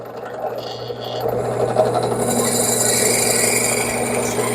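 A power drill whirs steadily close by, its motor pitch climbing as the bit grinds and rasps into pine wood, sustained without pause.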